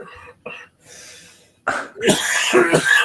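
Several harsh coughs in quick bursts, close and loud, with short pauses between fits.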